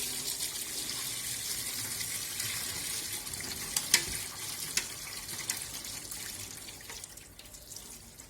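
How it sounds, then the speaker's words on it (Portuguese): Whey drains from homemade farmhouse cheese curds in a kitchen, a steady soft trickle and splash of liquid with a few sharper drips and clinks, moderately quiet and without talk. "Então tá na hora de a gente escorrer esse soro."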